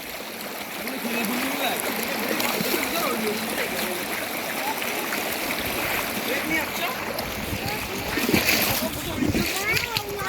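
Splashing and rushing of a village stream as someone wades into the water, a steady broadband wash with louder splashes near the end, voices talking throughout.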